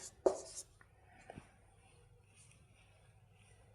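Faint scratchy strokes of numbers being written, brief and quiet with a sharper tap at the start, close by in an otherwise still room.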